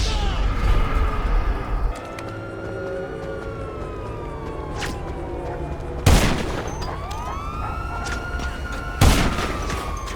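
Sniper gunfire in the GTA Online video game, with sharp, loud broadband shots cracking out twice over a busy backdrop of game noise, wailing sirens and distant booms.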